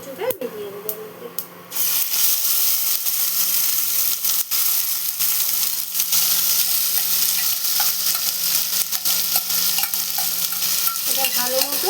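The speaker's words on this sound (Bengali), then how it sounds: "এটা ভালো মতো ভেজে নিতে হবে, খুব সুন্দর করে ভাজতে হবে এটাকে।" Taro pieces fry in hot oil with nigella seeds in a kadai, sizzling loudly and continuously after they drop into the pan, with stirring scrapes and a voice talking early on.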